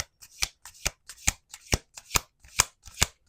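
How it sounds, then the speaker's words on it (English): Tarot cards are riffled in quick, evenly spaced bursts, a crisp rhythmic shuffling repeated about eight times, close up. "Let's do one more shuffle."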